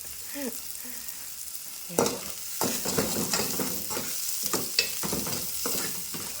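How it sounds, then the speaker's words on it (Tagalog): Onion and garlic sauté together in a hot pan, a steady sizzle broken by several loud scraping stirs and clanks of a utensil against the pan, with no talking. "Sabay na natin yung bawang at sibuyas."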